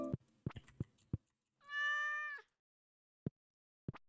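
A cat in Stardew Valley gives one drawn-out meow, clear and fairly loud, set among sparse short clicks and taps.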